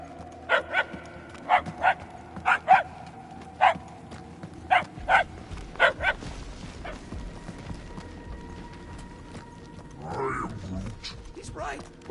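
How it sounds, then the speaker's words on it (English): A dog barks repeatedly in the Marvel's Guardians of the Galaxy video game, a burst of loud, clipped barks in the first half. They then fade away under in-game talk and ambient hum. "The barking is getting fainter."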